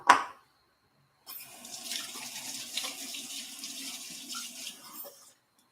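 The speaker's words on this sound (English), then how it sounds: "Wash my hands." Tap water runs steadily into a sink for about four seconds while hands are washed beneath it, a soft splashing stream after a brief knock at the start, with no talking.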